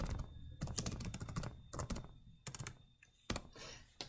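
Rapid bursts of typing on a computer keyboard as a signature is entered, clustered keystrokes in several quick runs with short pauses, close and clear with no speech.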